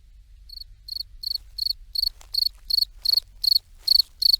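Rhythmic, evenly spaced chirping of insects, crickets or similar, pulses steadily in a quiet forest, fairly close and clear with no voices; no birdsong stands out.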